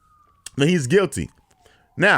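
A police siren outside wails faintly and steadily beneath someone speaking close to the microphone.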